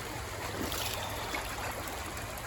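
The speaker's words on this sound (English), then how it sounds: "We got a good flow on the river today" River water rushing through a Gold Hog sluice during gold panning, a steady close babbling flow with no breaks and a low hum beneath it.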